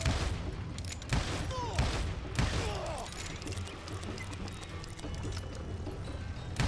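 Gunfire in the western video game Call of Juarez Gunslinger, several sharp shots spaced a second or so apart among clattering hooves and ricochet whines, fairly close and loud.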